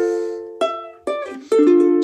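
Ukulele plays a short phrase from the second part of the bridge of Here Comes the Bride, three or four plucked chords ringing out close and clear, with no talking.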